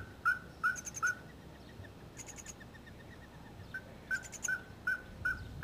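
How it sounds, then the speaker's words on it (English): A cactus ferruginous pygmy owl calls in the Arizona desert, a series of short, evenly spaced whistled notes in several bursts, moderately close against quiet background noise. "The Cactus ferruginous pygmy owl isn't particular."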